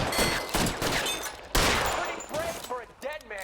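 Gunfire in the video game L.A. Noire: several sharp, loud shots in quick bursts, with someone talking over the shooting.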